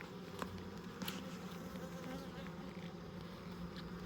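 Honey bees in an opened backyard hive during a June inspection make a steady, close, dense buzz that holds throughout, with a few brief louder passes near the start.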